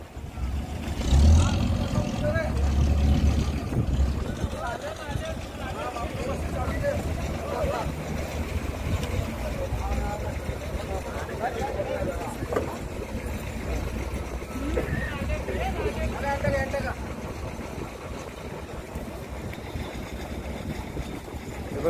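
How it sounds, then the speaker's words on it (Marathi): A passenger ferry pulls in at Mora Jetty in Uran, Navi Mumbai, its engine a steady, droning rumble throughout with water wash, while a voice talks over it. "आता या ठिकाणी ही बोट लावणार."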